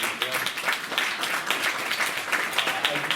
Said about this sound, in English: give another round of applause for our speakers for coming down.